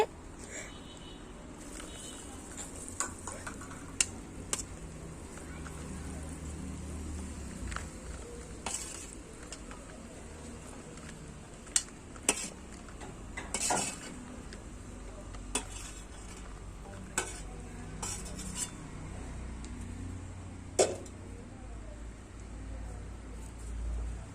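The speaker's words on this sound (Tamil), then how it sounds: "அப்படியே மெதுவாக அப்படி கலந்து விடணும்." Chilli masala with green chillies stirred in a hot pan, a utensil scraping and clinking against the metal over steady sizzling and frying, with scattered sharp knocks across a long stretch and no talk.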